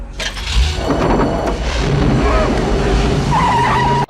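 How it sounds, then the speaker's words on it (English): Tires skid and squeal loudly during a car chase in the Double Dragon movie, a sustained screech over roaring engine noise, close and dense, ending abruptly. "This leads to a car chase"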